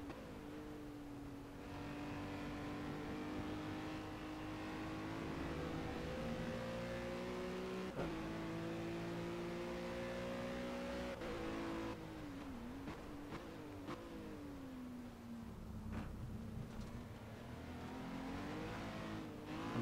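Ginetta GT4 race car engines in the Project Cars racing game drone steadily and loudly, their pitch climbing and dropping through gear changes and corners, with other cars close by and no talking.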